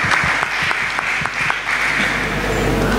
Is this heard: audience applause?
yes